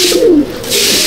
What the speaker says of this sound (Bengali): এই হচ্ছে মাদি পায়রা